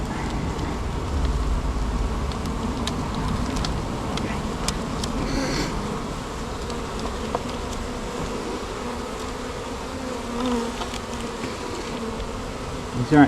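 Bees being removed from a bin: a dense, continuous loud buzz of many insects close by, steady throughout, with occasional clicks and knocks and no speech.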